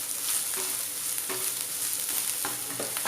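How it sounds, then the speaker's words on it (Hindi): Thin-sliced capsicum sautéed in an open pan for chicken chilli, a constant bright sizzle with a few soft stirring knocks close by, no voices. "थोड़ा सा सौटे कर लेंगे।"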